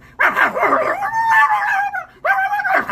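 A man vocally imitates a dog fight, with loud, close barks, yips and drawn-out howling in two bursts separated by a short pause.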